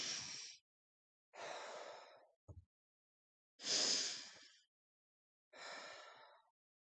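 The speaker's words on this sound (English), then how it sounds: "Deep breath." Four slow, deep breaths, each a long breathy exhale or inhale lasting under a second, separated by pauses, with a brief soft click between the second and third; close and alone, no talking.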